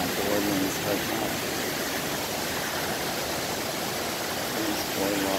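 Steady broadband rush of a creek waterfall flowing beside a boardwalk outside the Woodlands hotel, a constant close wash of water with no breaks, heard alone.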